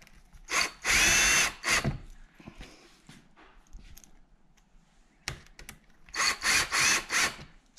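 A power drill whirs in two loud, close bursts driving screws to fit winglets on a C7 Corvette aero package, with short stops and quieter handling noises in between.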